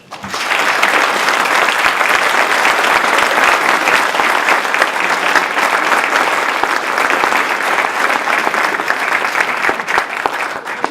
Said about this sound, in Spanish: yo sí les quisiera pedir que les demos un fuerte aplauso